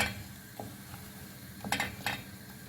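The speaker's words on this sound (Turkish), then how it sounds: "Hemen 2 çorba kaşığı unumu dahil ettim. Derin bir şekilde karıştırıyorum." A spoon stirs flour into melted butter in a pot for béchamel sauce, with a faint sizzle underneath and a few sharp scrapes and clinks of utensil on pan close by.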